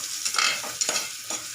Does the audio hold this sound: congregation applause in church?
no